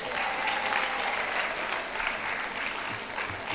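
An audience at an International Women's Day university event claps steadily, a dense continuous round of applause filling the whole moment without talk.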